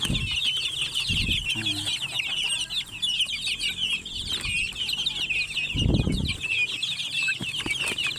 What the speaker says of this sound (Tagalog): Patuka tayo ng ating mga chikiting.